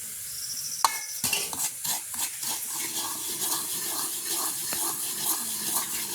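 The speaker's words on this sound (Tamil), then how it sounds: "நாங்கள் ரவையை வறுத்தெடுப்போம் கருகா வறுத்தெடுப்போம்" Semolina dry-roasts in a hot pan for upma over a village stove, with a spoon scraping and stirring in repeated close strokes, light sizzling beneath and occasional sharp clinks of metal.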